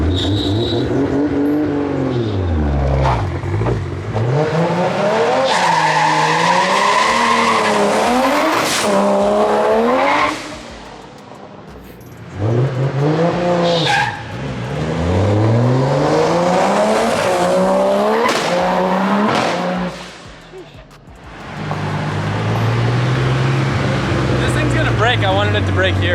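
A Barra-swapped Ford Mustang GT350 launches hard in a street drag hit near a lift building, its loud engine climbing and flat-shifting in rising sweeps with tire squeal, dropping briefly between pulls; voices talk over parts of it.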